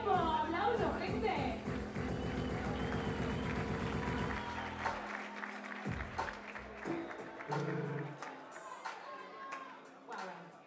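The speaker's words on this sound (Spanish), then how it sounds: "¡Aplausos, gente!" A rap battle crowd at a regional Cultura Rap 2023 event in Córdoba. A thick, blended burst of sound opens the clip, then gives way to scattered claps and cheering of varying loudness as the noise tapers off.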